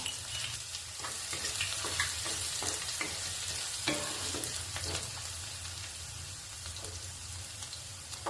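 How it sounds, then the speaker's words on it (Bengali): Crushed garlic fries with dried chilies in oil over a medium gas flame for radish chutney, a steady close sizzle with repeated scraping stirs across the whole stretch. "আর একটু রসুন থেতো করে দিয়ে দিলাম।"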